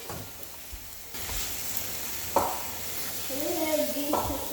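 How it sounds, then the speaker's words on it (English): Onion, ginger and garlic fry in a pan with a soft steady sizzle. Stirring scrapes and a couple of clinks break in, and faint voices hum in the background. "I have my onion, ginger, and garlic. I'm going to fry it for 3 minutes."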